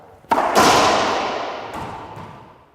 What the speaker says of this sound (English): And last one, cross court shot.